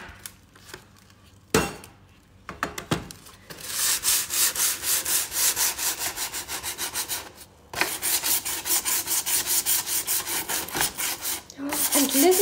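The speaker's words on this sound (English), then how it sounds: "if I'm going to sand the inside of this lattice" Sandpaper rubs hard over painted wooden lattice to distress it, giving loud rhythmic back-and-forth scrubbing strokes in two long bursts, with a few knocks and handling sounds before them and no speech.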